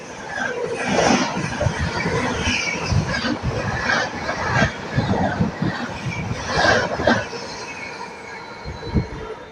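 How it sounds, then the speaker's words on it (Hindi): The Dibrugarh–New Delhi Rajdhani Express runs past on Indian rails with a loud, rumbling roll, rhythmic wheel clatter and squealing surges close by. "फुल होंके के साथ आ रही डिब्रूगढ़ न्यू दिल्ली राजधानी"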